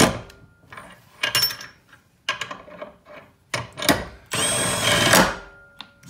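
A Milwaukee M12 Fuel 3/8-inch stubby impact wrench fastens a bolt in short, close bursts of whirring and rapid hammering, ending in a longer sustained run before it stops automatically.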